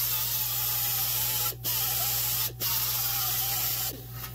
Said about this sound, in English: We're just taking the tops the best we can off the weld